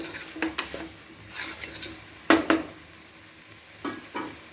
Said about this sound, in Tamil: இப்போ ஒரே ஒரு கிண்டிட்டு